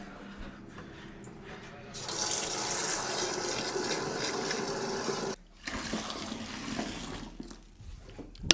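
Cold water gushes from a tap into a container for home brewing beer. A loud steady rush starts after a quiet lead-in, cuts off briefly, then runs again.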